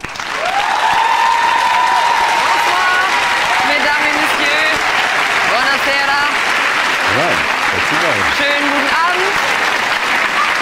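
Loud, sustained audience applause with cheering and a few whistles greets host Gundis Zambo as she comes on stage at the Hypno Grand Prix evening show. The clapping stays dense and steady throughout.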